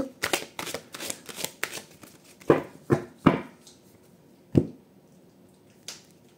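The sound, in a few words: shuffling and cutting a deck of oracle cards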